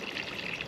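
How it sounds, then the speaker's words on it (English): A watering can pours water mixed with tomato feed onto garden soil outdoors, a short steady splashing trickle, close and moderately loud. "just give that a really good water. Just water that into the ground."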